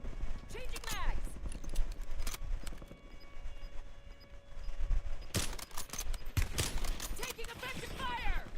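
Gunfire in Call of Duty Warzone: bursts of sharp shots crack over a busy background, with a dense cluster of loud reports around the middle-late stretch, mixed with voice chatter.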